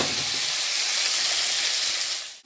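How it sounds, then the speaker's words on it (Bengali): Bitter gourd frying in hot oil in a wok, giving a steady, loud, broadband sizzling hiss that holds evenly for about two seconds before dropping away sharply at the end. "তো আগেই উচ্ছেটা ভেজে নিই, কড়াইতে তেল দিয়ে দিয়েছি, গরম হয়ে গেছে।"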